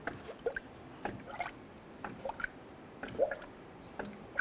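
Coolant poured through a funnel into the radiator of a 2012-2017 Toyota Camry, quiet irregular gurgles, drips and squishy glugs close by, with no talk.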